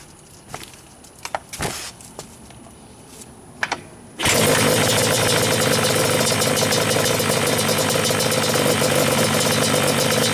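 A few clicks and handling knocks, then a stock Yamaha Banshee ATV engine roars to life and settles into a loud, steady idle running close by.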